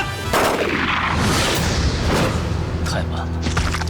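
Dramatic gunfire in a staged standoff scene: loud booming shots and bursts ring out close, with voices heard amid the firing.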